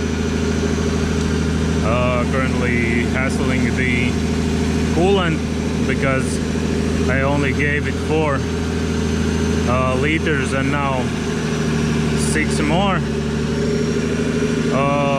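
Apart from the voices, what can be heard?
Nissan Patrol Y60 engine running without an exhaust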